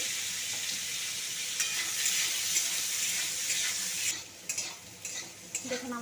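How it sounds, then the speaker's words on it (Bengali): Boiled elephant foot yam and potato pieces fry in hot oil in a kadai with a loud, continuous sizzle and stirring scrapes; the sizzle softens after about four seconds, leaving intermittent crackles and clinks. "সেদ্ধ করে রাখা ওল আলুটাকে আমি ভালো করে ভেজে নেব।"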